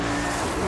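A drag race car loses control in a semifinal run at the Gatornationals and skids, giving a brief, loud, close burst of engine roar and tire noise.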